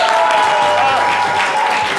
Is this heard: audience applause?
yes